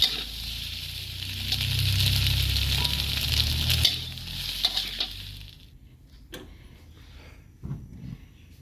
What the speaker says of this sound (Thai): ผัด ไข่พอสุกเหลืองๆ แล้วก็ตักขึ้น